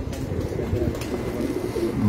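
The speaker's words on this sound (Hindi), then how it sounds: "ये मेरा एक और अच्छा कबूतर 8 नंबर टेडी" A pet pigeon on a rooftop coos in low, repeated throaty pulses, close and steady against a faint background, with no talking.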